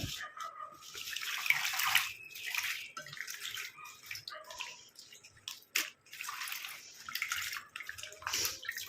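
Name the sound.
washing karpooravalli leaves in a bowl of water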